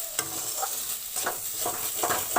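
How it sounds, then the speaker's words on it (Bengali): Boiled vetki fish being stirred and broken up in a pan, several soft scraping strokes of a spatula recurring at uneven intervals over a faint steady hiss, close and fairly quiet. "এইভাবে আমি ঘেটে দেবো, ঘেটে দিচ্ছি।"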